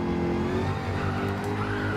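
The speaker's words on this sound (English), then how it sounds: "So I think I'm braking a little too late." Race car in Gran Turismo 7 braking late into a corner, engine droning steadily and loudly with faint tire noise throughout, no talk.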